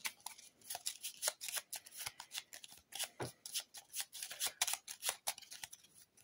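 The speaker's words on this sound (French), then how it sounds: "Je vais remélanger." Playing cards being reshuffled for a board game, a quick run of crisp riffling, snapping bursts repeating steadily up close with no talk.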